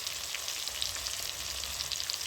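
Ground spices dropped into tomato and ginger frying in a pan, a dense, steady hissing sizzle that continues evenly and fairly loud throughout, with no voices.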